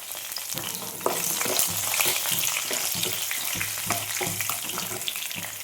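Green chilies frying with ginger and garlic in a pan for coconut rice: a close, steady sizzle broken by scraping stir strokes and small crackles, with no one speaking.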